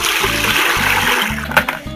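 Water pours and splashes into a cooking pot for boiling pumpkin, a close, steady gush with a brief louder splatter near the end while background music plays.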